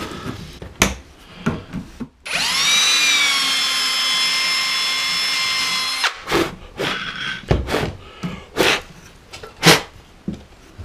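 A workshop vacuum cleaner runs steadily for about four seconds, clearing dust out of a hole drilled in wood for a barrel nut while fitting a bus bunk, surrounded by knocks and scraping handling noises.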